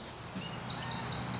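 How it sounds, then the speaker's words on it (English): Small birds chirp in a quick, regular series of five or six thin, high tweets over a soft, steady background hiss. "More birds."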